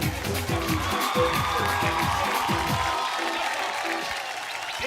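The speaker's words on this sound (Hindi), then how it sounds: "जोरदार तालियों से स्वागत कीजिए" Audience applause welcomes guests onto the stage at a Hindi-language fair talent show, a dense, steady clapping from a large crowd, with music playing underneath.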